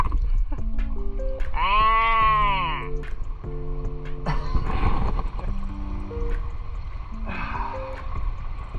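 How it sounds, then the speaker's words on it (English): Goat bleating near a rocky tidal pool on the coast of Trinidad and Tobago, a loud wavering cry over steady wind or surf noise, followed by a fainter second bleat later. "There's a goat up there."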